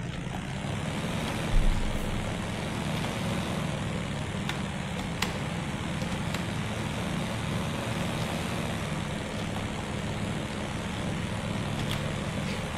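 Simulated vehicle engine in Unreal Engine 5 Chaos, a steady broadband drone held at an even level throughout a long drive, with faint high ticks and no talk.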